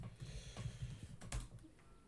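Irregular bursts of keystrokes on a computer keyboard, close by, with a few louder clacks mixed into quick typing.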